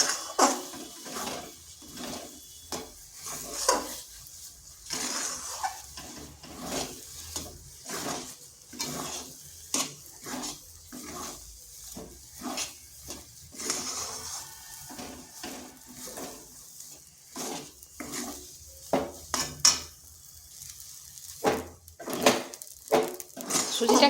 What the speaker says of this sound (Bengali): সুজিটাকে এইভাবে নেড়ে নেড়ে শক্ত ডো তৈরি করে নিতে হবে।